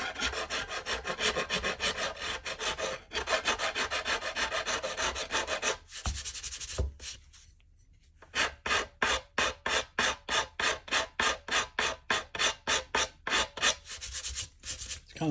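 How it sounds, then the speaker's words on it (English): Sanding a J-B Weld SteelStik epoxy repair on a Santa Claus figure: rhythmic raspy back-and-forth strokes, close and clear, first a dense scrubbing run, then a brief pause, then a steady series of evenly spaced strokes. "Sand it to get the big raspy marks out of it."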